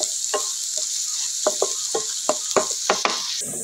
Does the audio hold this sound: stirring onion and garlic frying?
yes